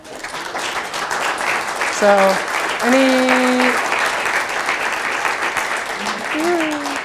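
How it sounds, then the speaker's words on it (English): Sustained applause from a conference audience in San Diego fills the room at the close of a cloud security talk, steady and dense throughout, with a few brief tonal feedback-like whines and a voice briefly speaking near the end. "that was like the longest clap I ever got"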